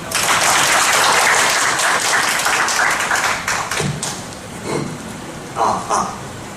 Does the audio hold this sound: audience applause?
yes